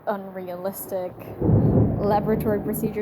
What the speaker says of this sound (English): Sorry about the thunder, by the way. It's pouring outside my window